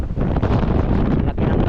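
Strong wind at sea during a boat trip, buffeting the microphone in a loud, gusty roar with a brief lull partway through; no talking.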